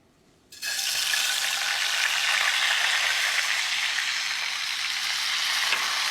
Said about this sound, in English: I'm gonna go ahead and squeeze my lemon juice into it.